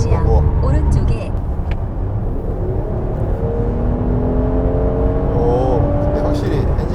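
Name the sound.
Mercedes-AMG GLC 43 4Matic engine accelerating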